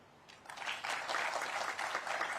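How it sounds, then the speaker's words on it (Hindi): Audience at a Teachers' Day state educational excellence award ceremony applauding the chief minister, a burst of clapping that swells after a half-second and holds steady and dense to the end, with no talk over it. "एक बार आप लोग सब मुख्यमंत्री जी के लिए ताली बजा देंगे"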